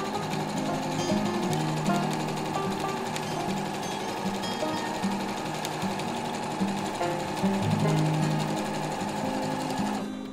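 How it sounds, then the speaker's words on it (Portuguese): Sewing machine stitching fabric together with foam batting around the edge of a fabric panettone holder, a fast steady mechanical chatter, close and uninterrupted for several seconds. "E agora é só passar uma costura em volta."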